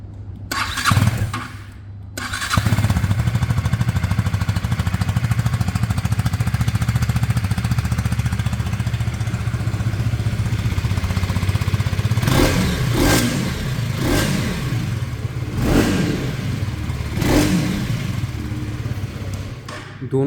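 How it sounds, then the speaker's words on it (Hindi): A KTM Duke 250 with an underbelly exhaust cranks and fires up, settling into a loud, steady single-cylinder idle, then is blipped several times in quick sharp revs before dropping back to idle, close and unaccompanied by talk. "अब स्टार्ट करते हैं ड्यूक 250 को।"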